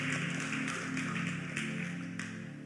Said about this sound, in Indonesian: Tepuk tangan yang paling meriah buat Tuhan Yesus Tuhan kita